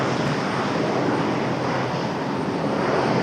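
An Alaska Airlines jet in Mariners livery on the runway at Raleigh-Durham International produces a steady, loud broadband engine roar that stays constant throughout, with no talk.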